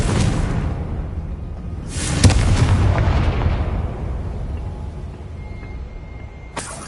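Confringo, a fire spell in the video game Hogwarts Legacy, lets off an explosive blast: a deep, booming burst with a whooshing rush and rumbling tail, then a second sharp impact near the end.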